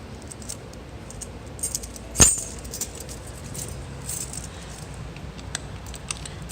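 Keys jingle and clink while a teacher locks up a classroom door, one brief sharp metallic burst amid faint scattered rattles and quiet room tone.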